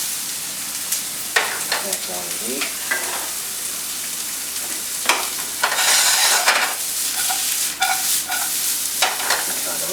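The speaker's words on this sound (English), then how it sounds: "Get that nice sizzle as soon as they go into the hot pan." Chopped onions and ground beef sizzle in a hot sauté pan, a continuous frying crackle broken by scraping stirs, with a person briefly speaking over the cooking.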